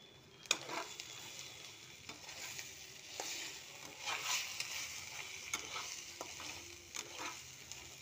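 Spice masala fries in a pan with a soft, steady sizzle, joined by occasional scrapes and taps of stirring; the sound stays quiet and close throughout.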